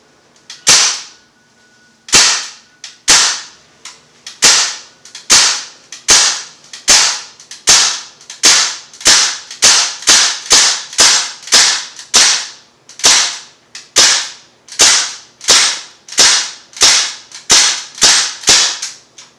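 A Crosman R1 .177 caliber BB rifle firing on semi-auto, about two dozen sharp cracking shots at a steady, quickening pace, close and loud.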